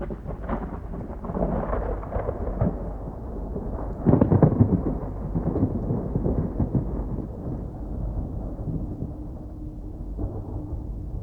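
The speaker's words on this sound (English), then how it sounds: "The evening of the tragedy, there was a terrible thunderstorm." A heavy thunderstorm rolls on with deep rumbling thunder that swells into a louder crack partway through, over a constant wash of rain, with no voices.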